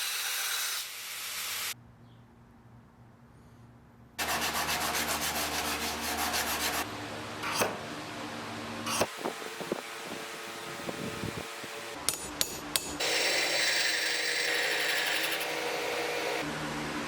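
Belt grinder with a fresh belt grinding bevels into a knife blade made from reclaimed leaf spring steel, a loud rasping hiss in repeated passes broken by short pauses, with no talking.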